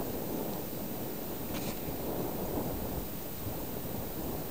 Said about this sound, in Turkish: Videoda çok ses yapabilir bu rüzgar.